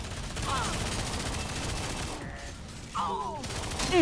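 Gunfire and grenade launches in the video game Lawbreakers, a steady clatter of shots running throughout with a sharper burst near the end, mixed with game effects and faint voice chatter.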